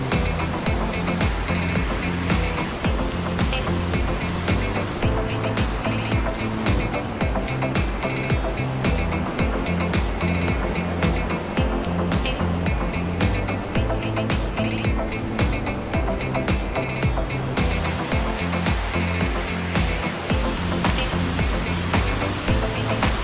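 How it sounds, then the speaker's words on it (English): Roaring water near a mountain trail, a loud, continuous broadband rush filling the clip steadily and close by, with no speech over it. "Just listen to that water roar."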